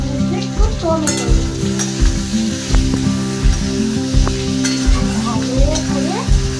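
Tomato going into a potato vegetable curry frying in a pan, with continuous loud sizzling and regular scraping stirs about every second, no voices.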